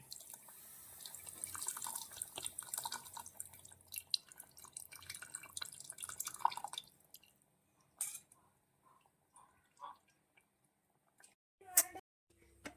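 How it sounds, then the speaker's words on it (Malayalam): Tamarind water squeezed into a curry, trickling and dripping close by, a run of wet splashes and drips that thins out into a few scattered drops with quiet gaps. "ആ പുളി വെള്ളം കൂടി നമുക്ക് ഇതിന്റെ കൂട്ടത്തില് പിഴിഞ്ഞൊഴിക്കാം"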